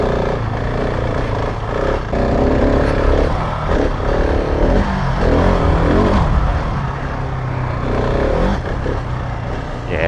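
A Husqvarna 701 Enduro motorcycle climbs a steep, slippery slope, its engine droning loud and close throughout with rising and falling throttle and no speech.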